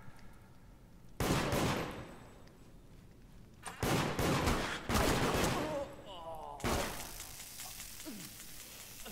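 Bursts of game gunfire in the multiplayer horror game Deceit, loud volleys of rapid shots in clusters separated by brief lulls, with players talking over parts of it.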